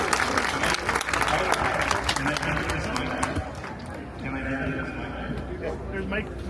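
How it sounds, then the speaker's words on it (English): Applause from a crowd for the Toronto Fire Services pipes and drums at an outdoor Celtic Irish gathering on Centre Island, dense steady clapping mixed with background voices that thins slightly toward the end. "Give them a round of applause here for these dedicated men and women of the Toronto Fire Service pipe drums."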